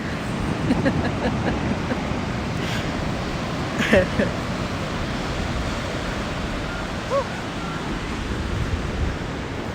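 Waves wash on a beach at sunrise with wind buffeting the microphone, making a steady, broad rush of surf and gusts, with a few faint brief voices or calls in the background.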